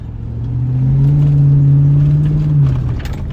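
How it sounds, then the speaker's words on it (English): V8 truck engine revving through its exhaust, a loud, deep rumble that swells and holds for a few seconds before easing off, close and alone. "Gotta fucking love the sound of a beautiful V8"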